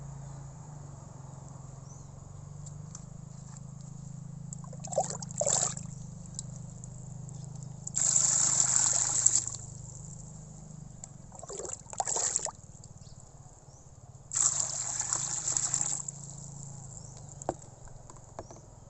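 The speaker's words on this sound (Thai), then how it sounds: "อันนี้เดี๋ยวเติมน้ำประมาณครึ่งหนึ่งนะครับ" Water is poured into a half-full bucket for growing Azolla microphylla, heard as several separate splashing, rushing bursts of a few seconds each between quieter gaps over a low steady hum.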